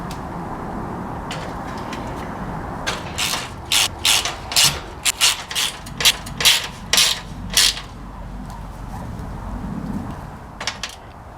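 Ratchet wrench clicking in quick bursts while the radiator fan assembly is bolted back onto a 1994 VW Jetta MK3, close and loud, with pauses between runs over a steady background hum.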